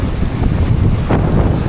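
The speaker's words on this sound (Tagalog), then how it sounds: "Grabe, lakas ng hangin dito." Strong wind roars and buffets the microphone at a fishport where windmill spare parts are being unloaded, a loud continuous low rumble with gusty swells and no talk.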